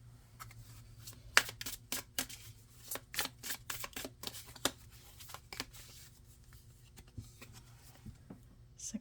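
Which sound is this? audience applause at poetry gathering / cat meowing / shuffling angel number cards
shuffling angel number cards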